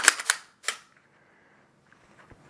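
Sharp, close clicks as a factory Glock 19 magazine snaps and locks into a Gen4 Glock 26 compact pistol: a quick cluster of three crisp metallic clacks, then near quiet.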